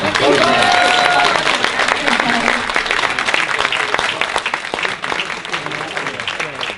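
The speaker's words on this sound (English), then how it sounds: "another round of applause" Loud, sustained applause from a crowd, dense clapping throughout with some voices mixed in, gradually thinning toward the end.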